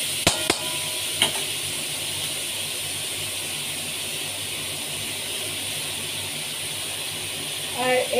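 Ingredients for fried rice sizzle in a hot pan with a constant broad hiss, opening with a few sharp clatters, while a voice speaks quietly beneath the frying.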